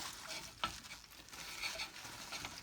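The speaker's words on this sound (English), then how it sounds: "fry it until it's brown again on both sides" Breaded pork schnitzel frying in a pan gives a steady close sizzle and crackle throughout, with one brief clink of a utensil.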